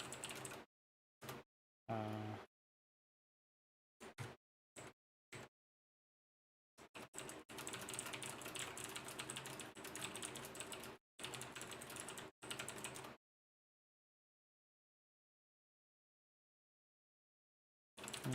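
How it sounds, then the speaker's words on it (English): Bursts of computer keyboard typing, short clusters of keystrokes at first, then a sustained run of rapid clicking, with silent gaps between bursts. "Just typing to Vik about my thought process on this."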